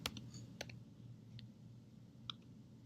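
A few faint, sparse computer clicks and keyboard taps while opening Google and typing a search for LAUSD My Data; scattered, quiet and close, with no voices.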